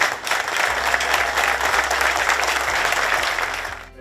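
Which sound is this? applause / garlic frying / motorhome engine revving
applause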